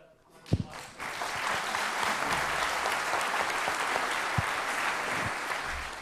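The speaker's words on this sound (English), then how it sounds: "Let's give a round of applause." Sustained audience applause at a startup meetup event, dense steady clapping from about one second onward after a couple of sharp knocks, filling the room at moderate loudness.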